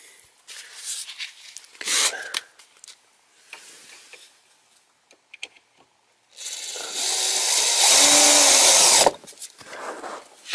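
A power drill driving small screws into a door lock fitting, a short whir early on, then a long steady buzzing run close to the mic after scattered handling noises.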